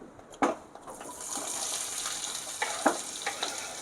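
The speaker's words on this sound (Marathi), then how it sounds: "हे तेल उडतंय रे, माझं पनीर चिपकतं" Paneer frying in hot splattering oil sizzles with a steady hiss, punctuated by a few sharp spits and pops, close and fairly loud.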